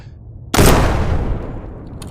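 A sniper rifle in the VR game Shotwood fires one loud, sharp shot after a quiet moment, followed by a long, rolling echo that fades slowly.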